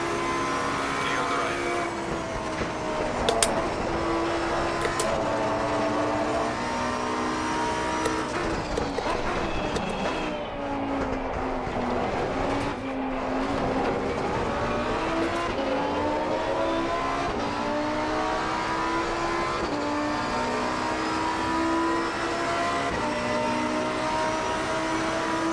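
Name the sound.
Mustang race car engine in Assetto Corsa Competizione racing video game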